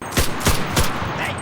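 A King Arms M2 Paratrooper airsoft gun fires three quick, evenly spaced shots at close range, each a sharp crack.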